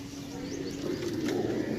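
Pigeons at a pigeon sale in Sarai Alamgir, giving low, soft cooing close by over a faint, steady background hum, with brief rustling.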